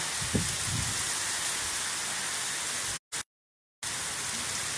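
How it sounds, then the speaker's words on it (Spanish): Steady, dense hiss of heavy rain pouring down with strong gusting wind in Sampacho, Argentina, broken briefly by a short silence before resuming. "El viento con ráfagas intensas, copiosa la lluvia."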